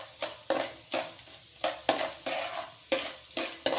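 Chana dal and urad dal frying in hot oil in a pan, with a steady run of scraping stirring strokes over a soft sizzle, close and fairly quiet.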